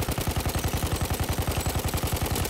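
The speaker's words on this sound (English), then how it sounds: "There's an enemy machine gun." An enemy machine gun fires in a first-person shooter video game, a loud, fast, steady stream of rounds rattling without a break for the whole stretch.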